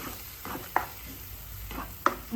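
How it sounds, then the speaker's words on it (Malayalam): Onion paste goes into a hot pan with a low sizzle and a couple of sharp scraping clinks, close by and without speech. "നമ്മൾ പേസ്റ്റാക്കി വെച്ചേക്കുന്ന സവാള ഇല്ലേ അത് ഇതിനകത്തോട്ട് ഒഴിച്ചു കൊടുക്കാം"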